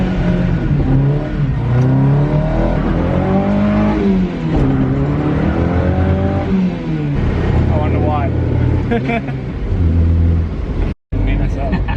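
An old boy-racer rally car engine runs and revs on its first start in over two years, loud and close with rising and falling pitch sweeps; people talk over the engine noise.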